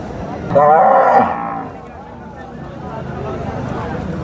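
A bull lets out one loud, close moo lasting about a second at a busy cattle market, followed by general crowd noise and talking.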